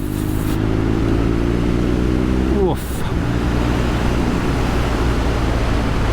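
Continuous engine drone of a BMW motorcycle on an Exmoor valley road, heard from the rider's position with wind rush, the pitch holding steady then dipping briefly at a gear change before resuming.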